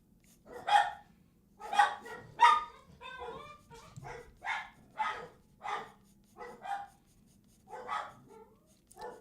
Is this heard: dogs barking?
yes